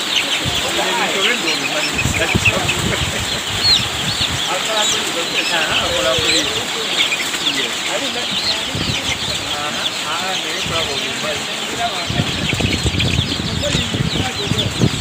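Chickens and cockerels at a farm, repeated clucks and squawks scattered throughout, fairly close and loud, with people talking over and around them and some general outdoor bustle.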